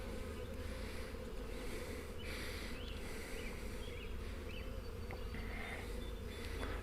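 Calm honey bees buzz densely around a hive, a constant, close, full-bodied drone with individual insects whining past now and then.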